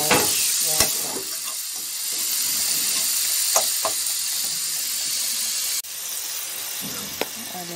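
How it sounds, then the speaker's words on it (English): Jamaican-style brown stew fish sizzles steadily in a hot pan after cornstarch water goes in, a close, continuous crackle broken by a few sharp knocks of a spoon stirring against the pot. "Add in the cornstarch."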